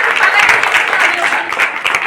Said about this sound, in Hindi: परिधि के लिए ताली बजाइए पहले तो सब लोग